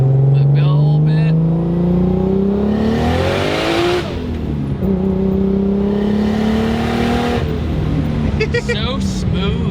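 A 2JZ-swapped Lexus IS300 accelerates hard through the gears from inside the cabin, its engine droning and rising in pitch, dropping at a shift, then climbing again, loud with occupants talking over it.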